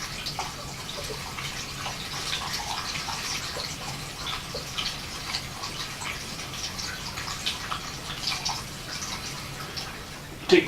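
Non-ethanol gasoline trickles and splashes into the fuel tank of a Ford AA Doodlebug, a soft continuous pouring with small drips, faint and close, ending in a brief louder knock.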